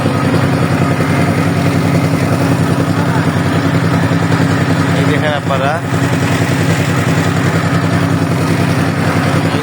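A motor boat engine drones loud and steady on a waterway on the way to Sada Pathor, a continuous close rumble beneath a voice talking over it.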